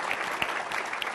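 A television studio audience applauds to welcome Dr. Sambit Patra onto a live Hindi news debate show, a brief burst of dense, steady clapping.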